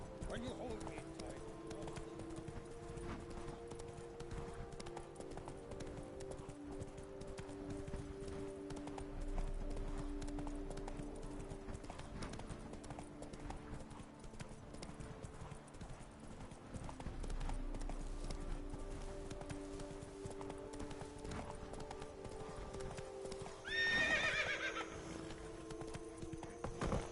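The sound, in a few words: horse Roach galloping and neighing in video game Witcher 3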